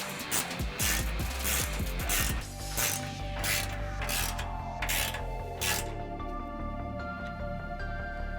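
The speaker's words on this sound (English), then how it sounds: "we're going to go tighten up these 13mm bolts again to get this front part locked in" Ratchet tightening 13mm bolts on a Toyota Tacoma skid plate, close rhythmic clicking strokes that slow and fade toward the end.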